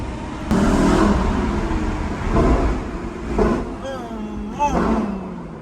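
A sports car engine revs and roars in bursts, its exhaust echoing inside a tunnel, with several rising pulses and a voice talking faintly underneath.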